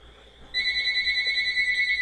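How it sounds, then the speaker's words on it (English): Telephones in the city-building game SimCity Classic start ringing after a short, quiet lead-in, a bright, steady electronic trill that carries on evenly to the end. "Telephones are ringing."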